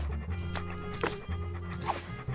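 A dog in the game Monkey Island 2: LeChuck's Revenge Special Edition gives a few short yips and barks over a steady musical background.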